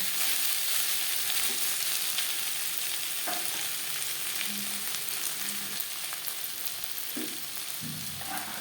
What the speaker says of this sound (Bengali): তিন চার মিনিট হাই টু মিডিয়াম ফ্লেমে নাড়াচাড়া করে নেওয়ার পর গ্যাসের ফ্লেমটা অফ করে দেব